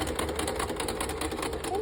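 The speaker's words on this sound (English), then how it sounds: "we've just completed the sewing machine reinforcement" A sewing machine stitches a reinforcement line along a steek on hand knitting, giving a steady, close, even mechanical whir with a fast rhythmic stitching pulse that runs unbroken throughout.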